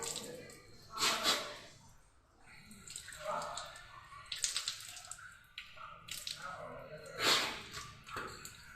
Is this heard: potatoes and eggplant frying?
no